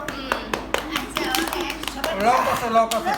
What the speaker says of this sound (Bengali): ইরামের জন্য সবাই হাততালি দাও হাততালি দাও